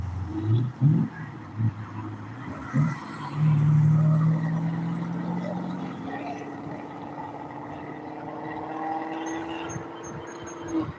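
Hot rod cars racing, engines droning and rising with short tire squeals early on, heard at moderate distance while someone talks over them.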